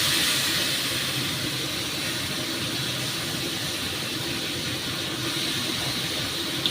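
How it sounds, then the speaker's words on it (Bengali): Steady broadband sizzle and hiss as water hits spice paste frying in a pan for a Bengali kohlrabi curry, continuous and fairly loud throughout, with no voices. "একটু জল দিয়ে দিয়ে মশলাটাকে কষাবো।"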